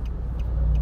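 Heard from inside a car in Florida, road traffic rumbles past, a steady engine and tire drone punctuated by brief hissing swishes of vehicles going by.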